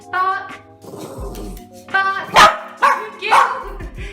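A dog barks several times in sharp bursts at close range, mixed with yelps and whines, with no clear speech between the barks.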